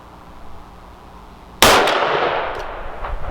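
A single loud, sharp gunshot from a Taurus Tracker revolver at an outdoor range, followed by a ringing clang off a 10-inch steel target, with a long decaying tail and a faint second ping.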